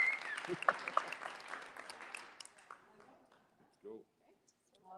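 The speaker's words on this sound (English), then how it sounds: "Let's have a round of applause for everyone watching online as well." A burst of applause and cheering from a small crowd fades out over a few seconds, followed by brief talking.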